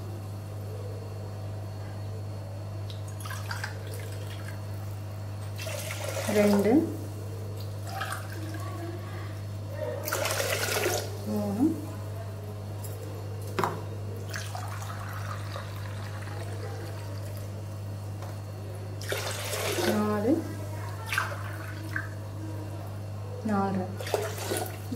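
Water is poured into a pan of sugar to make syrup for rasgulla, coming in several short splashy bursts over a steady low electrical hum, with someone speaking between the pours.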